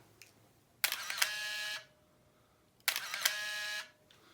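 Two quick shots from a Nikon N50 SLR camera, each a sharp shutter click followed by a loud whirring motor wind, separated by a brief pause in a quiet room.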